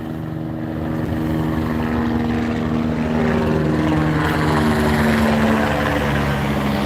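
A jet aircraft roars past at LAX, a loud, steady engine rumble with a whining tone that swells slightly as it passes close by, with no voices.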